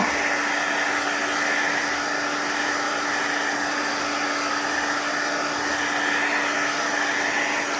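A hair dryer runs steadily at close range throughout, drying wet mixed media paint on an art piece, with a constant broadband whoosh and a fixed motor whine and no pauses or talking.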